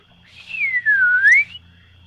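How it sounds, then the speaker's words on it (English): A single loud human whistle, held for about a second, sliding downward and then back up in pitch, heard clearly on its own over a quiet background. "gives a loud whistle"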